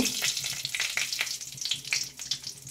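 Whole spices including bay leaf, dried red chilli and cinnamon sizzle and crackle in hot oil at the start of a mutton curry, a close bright frying hiss with sharp pops and stirring.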